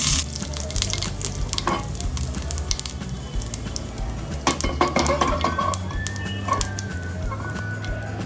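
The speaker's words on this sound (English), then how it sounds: "heat the pan, add little bit of ghee into it, add a bit of cumin seeds" Cumin seeds and curry leaves crackle and sizzle in hot ghee in a pan for a vrat-style coconut chutney tadka, a busy continuous frying hiss with sharp popping bursts throughout.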